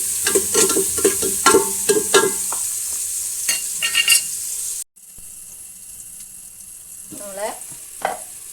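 Shallots sautéing with salt in a pressure cooker: a spoon scrapes and clatters over a steady sizzle at close range, then the sound cuts out and a quieter stretch follows with a few soft scrapes.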